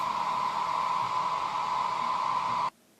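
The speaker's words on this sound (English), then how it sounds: "hairdryer on its lowest setting, so it's not that hot, but still pretty hot" A hair dryer runs on its lowest setting to warm a carbon fiber decal, giving a steady, close, continuous blowing hum that stops abruptly near the end.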